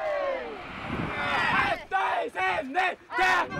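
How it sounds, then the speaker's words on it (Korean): Hikers on a long DMZ peace-and-unification march chant slogans together outdoors. A swelling group shout gives way to several loud rhythmic bursts of unison voices, close and forceful. "일행의 우렁찬 목소리가 울려 퍼집니다"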